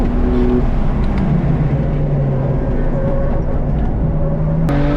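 A BMW F8x M3/M4 runs a lap at Thunderhill West, its engine droning loud and steady inside the cabin with shifting pitch tones and a brief sharp click near the end.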